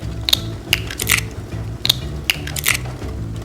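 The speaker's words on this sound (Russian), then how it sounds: "И разбиваем яйца." Eggs cracked into a frying pan holding oil and chopped bell pepper, two sharp crunchy shell cracks followed by crackly splatter bursts over a low steady hum, close and fairly loud.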